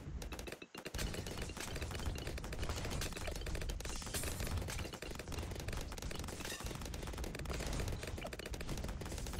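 Cannon towers fire nonstop in Bloons TD 6, a tower defense video game, making a dense, rapid barrage of popping blasts with no pauses.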